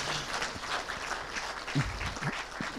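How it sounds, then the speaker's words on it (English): Audience applause for a panel at a university policy and economic data center event, a steady wash of clapping that runs the whole stretch at moderate level with a few low thumps from the room. "let's give our panel a big round of applause"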